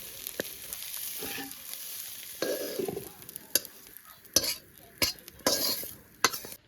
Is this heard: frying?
yes